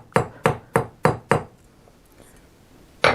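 Five sharp, ringing hammer blows land in an even rhythm on hot metal during forging, then a pause with faint scraping before one more strike.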